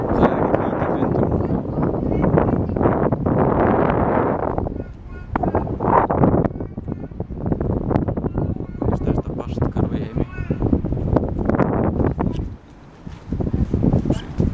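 Strong wind roars and buffets the microphone at a tall wooden tower, a loud, continuous rumbling gust that rises and falls while people talk.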